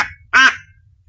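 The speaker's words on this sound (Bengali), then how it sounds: "ওই যে ওখানে আছে আর 5টা হাঁস।" A single duck gives one loud, close, nasal quack during flooding, set against a quiet background.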